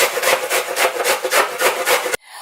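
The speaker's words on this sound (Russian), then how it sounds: "Морковь натираем на терке." A carrot is grated on a grater in fast, steady rasping strokes, each one a loud, close scrape, until the grating stops abruptly near the end.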